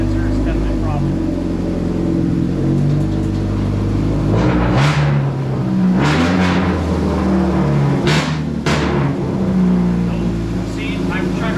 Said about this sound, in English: I'm trying to rev it and it just doesn't